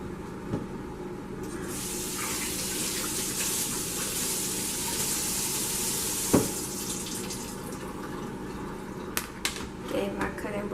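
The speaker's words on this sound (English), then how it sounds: "Gave my cutting board a little rinsey rinse." Tap water runs steadily over a cutting board being rinsed at a kitchen sink, a continuous hiss and splash with a few knocks and clatters near the middle and end.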